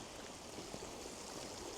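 A river flows beside a hiking trail, a constant rushing, gurgling wash of water close by, steady and unbroken with no speech.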